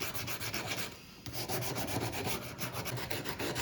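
Sandpaper worked by hand across metal, coarse grit, gives a steady run of rapid scraping back-and-forth strokes, close and clear, with a brief pause in the middle and no talking.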